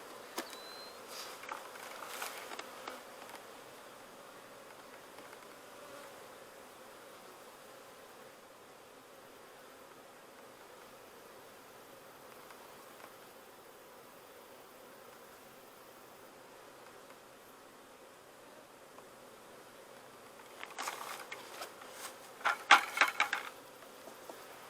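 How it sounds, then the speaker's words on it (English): Honeybees buzz around a syrup feeder set out for winter prep: a steady, soft hum carries throughout, swelling louder toward the end alongside a few close rustling knocks. "these bees are starting to smell it. They want to come check it out, see where the food's at."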